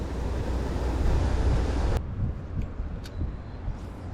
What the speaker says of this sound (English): I'm a little bit further away from all the sound of that water.